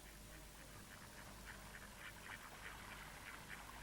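Ducks on an integrated farm quack repeatedly in a faint, distant flock, the calls overlapping irregularly over a low steady background rumble.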